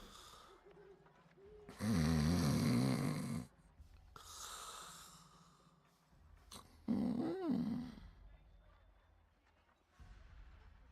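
A video game character snores loudly in two long rasping bursts, separated by quieter breathing-like noise, with a brief growl near the end.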